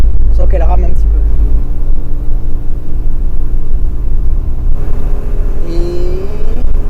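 Volvo 245 on the road, a low engine rumble and drone heard from inside the car as it drives and shifts, close and steady with brief tonal whines.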